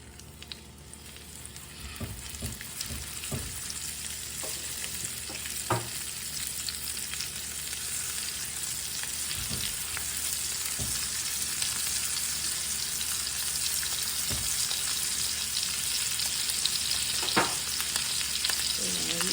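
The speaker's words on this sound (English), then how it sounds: "So now the cast iron skillet, all the butter is melted, it's browning." Blackened chicken frying at high heat in browned butter in a cast iron skillet, a constant bright sizzle that grows slightly louder, with occasional pops and faint utensil taps, close up and without talk.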